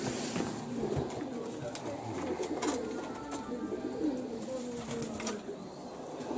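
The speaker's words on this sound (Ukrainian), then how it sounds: "У кімнатах сотні голубів" Hundreds of pigeons cooing inside an apartment in Zaporizhzhia, a dense chorus of soft repeated coos and rustling under a voice, steady throughout.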